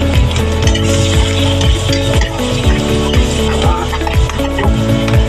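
Onion and garlic sauté in hot oil, a loud, close, continuous sizzle. Regular scraping strokes of a utensil stir the pan at a steady rhythm.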